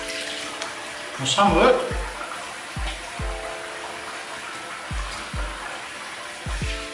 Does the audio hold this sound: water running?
yes